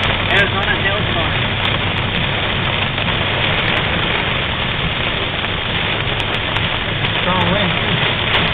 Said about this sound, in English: Going through a Arizona hailstorm.